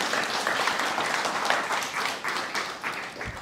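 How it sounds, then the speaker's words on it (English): An audience claps steadily at a guide dog graduation ceremony, a sustained, fairly close wash of applause from a small crowd throughout. "We can clap for Laura, yeah, as she exits."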